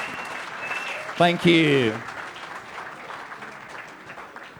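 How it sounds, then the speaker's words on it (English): A crowd applauds at a photography award ceremony held at the Lumen Museum on Kronplatz. The clapping forms a steady wash throughout, with a short spoken thanks rising over it near the middle. "I just need a big applause from the crowd, please."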